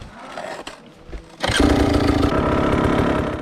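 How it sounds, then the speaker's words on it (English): Enduro motorcycle with a destroyed exhaust pipe on a hard enduro course, quiet rumbling at first, then the engine roars up abruptly and holds a loud, ragged, rasping drone close to the microphone. "my exhaust pipe is destroyed, so it doesn't sound very good"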